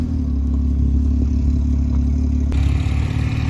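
A Porsche GT2 RS rumbles nearby as it arrives at a gathering of Carrera GTs, with a steady, loud low engine drone throughout and a slight rise in intensity partway through.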